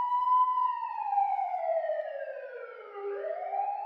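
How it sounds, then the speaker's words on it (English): Police siren wailing alone, one long falling tone that drops then starts to rise again, loud and fairly close. "Woo woo, that's the sound of the police."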